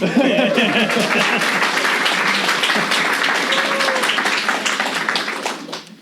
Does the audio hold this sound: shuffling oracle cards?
no